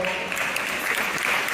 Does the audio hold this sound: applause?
yes